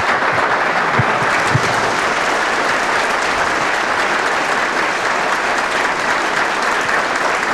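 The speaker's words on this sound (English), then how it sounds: "Would you please thank him with your applause?" Sustained, dense applause from a large audience honoring CIA Director John Brennan at a Finmeccanica-linked event, steady and loud throughout with no voices over it.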